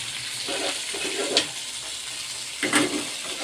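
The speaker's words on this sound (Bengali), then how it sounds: "এবার জলটা দিয়ে দেবো।" Hot water is poured into a curry of fried spices cooking in a pan, giving a soft sizzle and splash in two short bursts over a low kitchen hiss.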